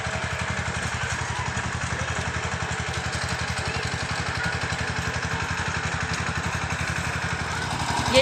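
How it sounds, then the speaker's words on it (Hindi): A small tractor ploughs and sows a hillside field in the mountains, its engine chugging in a steady, rapid rhythm. The sound is close, loud and continuous throughout, with a slight rise at the very end. "ये इस तरह से होती है छोटे ट्रैक्टर से जुताई बुआई।"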